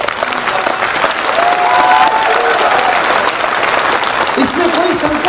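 A political speech audience in India bursts into applause, a dense wash of clapping that swells and stays steady while a voice talks over it.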